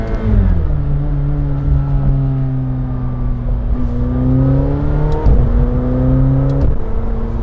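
A McLaren 720S sports car accelerates hard from inside the cabin, its engine note climbing in loud sustained pitch sweeps broken by quick gear changes, with no voices during the run.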